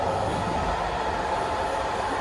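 Inside a train carriage on a run to Nymburk, the train rolls along the rails with a steady, close rumble and a faint high hiss, with no pauses.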